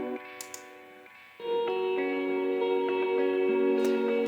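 A synth arpeggio of repeating sustained notes, swelling louder partway through and washed in long, dreamy reverb, with no voices.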